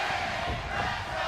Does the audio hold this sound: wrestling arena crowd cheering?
yes